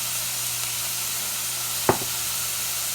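Fish curry ingredients with about half a teaspoon of salt frying in a pan, giving a steady, close hiss with a single sharp clatter of a utensil partway through.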